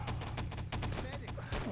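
Crossfire in the online shooter Enemy Territory, rapid bursts of overlapping gunshots crackling in quick succession at moderate volume, with a commentator talking over the action.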